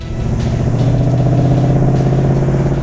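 A Ford Mustang's engine pulls hard under acceleration, a loud, close, steady droning roar with a slowly climbing pitch and no voices over it.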